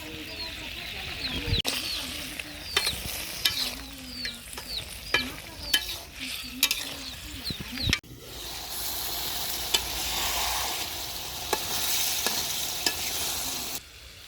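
Ridge gourd curry with pieces of fried fish is sautéed in a pan: repeated scraping stirs at first, then a steady, fairly loud sizzle, with no talking.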